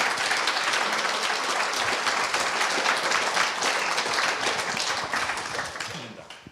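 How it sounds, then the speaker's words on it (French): A literature festival audience at a round-table on European writing applauds loudly and continuously, dense clapping that tapers off at the very end. "Vous pouvez applaudir."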